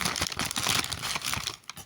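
A plastic packet of sweets is torn and crinkled open close up, a continuous dense rustle with crackling bursts that runs throughout and eases briefly near the end.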